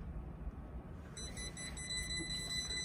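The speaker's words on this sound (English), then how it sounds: "It's going to give me alarm because I'm in a shallow area." A Garmin autopilot gives its shallow-water alarm on a boat, a steady electronic beeping tone that starts partway through and carries on over low engine and water rumble.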